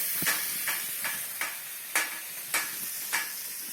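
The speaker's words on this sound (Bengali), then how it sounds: "এবার আমি একটু ভালো করে একটু কষে দিই এটা" Spices, onion, ginger and garlic are sautéed in a pan, giving a low hiss of frying broken by about seven brisk spatula scrapes at a fairly regular pace, close and with no voices.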